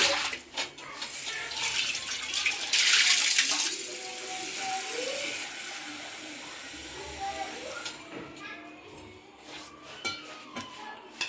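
Dried prawns washed under a running kitchen tap: water gushes and splashes loudly in bursts, strongest early on, with handling noises and a voice heard in places.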